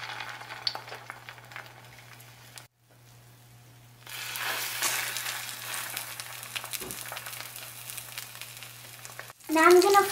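Cheesy egg toast fries in a pan with a steady, close sizzling hiss. The sizzle dips briefly partway through, then returns stronger and ends in a louder burst.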